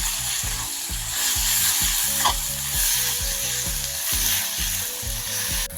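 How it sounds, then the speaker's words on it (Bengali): Ground spices (coriander, cumin, chilli and turmeric powder) being sautéed in a frying pan for a chicken curry, a steady close sizzle broken by regular rhythmic scrapes of a spoon stirring and scraping the pan. "এগুলোকে ভালোভাবে একটু কষিয়ে নিয়েছি"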